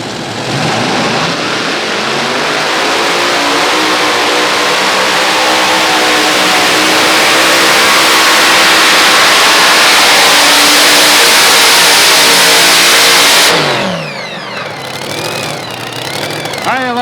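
Pulling tractors run wide open at the Atlantic Pro Pulling event, Great Frederick County Fair, a loud sustained engine roar that swells and climbs in pitch for over ten seconds before cutting off abruptly, leaving quieter rumble behind.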